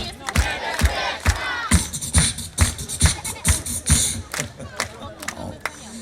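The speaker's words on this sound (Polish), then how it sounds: "rączki klaszczemy" An audience at a live event claps along in a steady rhythm, sharp hand claps repeating about twice a second over a lively crowd roar, close and loud throughout.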